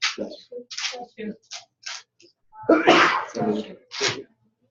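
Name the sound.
a sneeze into the elbow (vampire sneeze)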